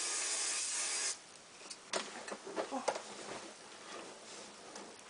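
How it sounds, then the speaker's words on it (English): Hairspray hisses from an aerosol can onto hair in a steady burst for about a second, followed by quieter rustling and teasing of the hair, close and fairly soft. "I spray and tease."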